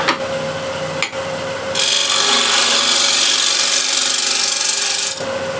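A wooden bowl spins on a lathe while waste wood is cut away, a steady motor hum giving way to a loud, continuous scraping rasp of the tool that holds for about three seconds before cutting off.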